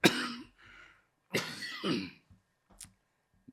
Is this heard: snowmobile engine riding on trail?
no